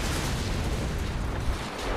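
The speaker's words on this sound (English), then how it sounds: "there's more explosions going on" Explosions in the stealth action game Hitman: Absolution, a dense rumbling roar of blasts and debris that stays loud and continuous for the whole stretch.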